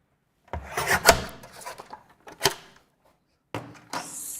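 Card being cut and scored for a craft project: a few separate rasping, rubbing strokes of blade on card, close and fairly loud, with short silent pauses between them.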